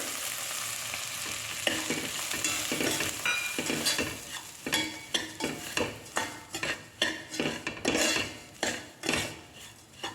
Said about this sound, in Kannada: ರವೆ ಹಾಕ್ಕೊಳ್ಳೋಣ.